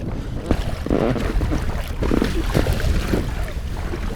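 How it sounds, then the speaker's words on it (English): Strong wind buffeting the microphone on choppy open water during a sea kayak trip off Holy Island, a loud steady roar with splashing waves and no talking. "It's getting a bit choppy now that the wind has picked up."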